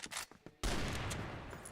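A burst of rapid gunfire erupts from a competitive CrossFire esports match, with loud, dense shots following a few short quieter pops.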